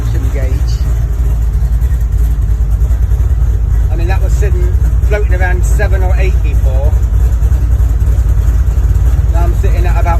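A car engine idles steadily after a carburetor adjustment, a loud, even low rumble running the whole time beneath someone talking close by.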